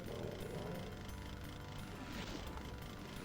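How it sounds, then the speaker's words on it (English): Chainsaw weapon in Final Doom, the TNT episode, grinding continuously at close range with a dense mechanical rattle and steady buzzing drone, no voices over it. "I'm insisting on using the chainsaw just to have a bit of fun"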